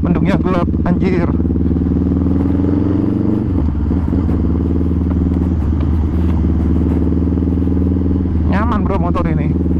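A 2020 Honda Rebel 500 small cruiser, a 500 cc six-speed radiator-cooled motorcycle, rides under overcast skies. Its engine gives a close, steady low drone that shifts pitch midway, with a rider talking over it at the start and end.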